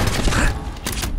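Gunfire during a tunnel firefight in Fallout 4, a dense burst of loud shots with a brief lull before another crack, no talk over it.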